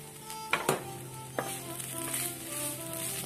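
A chicken and onion filling for chicken donuts sizzles in a pan while a spoon stirs it, giving a steady frying hiss with a few sharp scrapes and knocks against the pan, and no voices.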